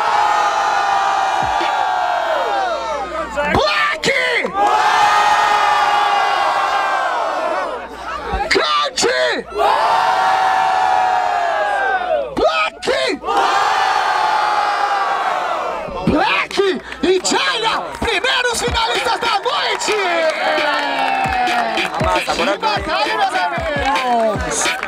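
A crowd at a Brazilian freestyle rap battle in Barueri, São Paulo, roars and cheers in loud, sustained waves of shouting, broken by brief pauses and rising again, with an amplified voice urging them on.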